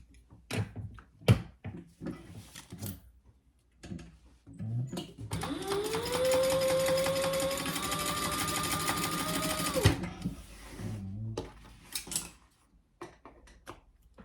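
Sewing machine stitching a tote bag with red thread, a steady fast mechanical whir running for about four seconds, framed by clicks and handling sounds before and after.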